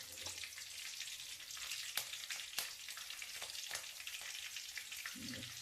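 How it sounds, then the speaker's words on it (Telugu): Green chilies sizzle steadily in hot oil for a flakes (poha) mixture, a continuous close crackling hiss with occasional sharper pops and no voices. "ముందు దీంట్లో పచ్చిమిరపకాయలు వేస్తాను"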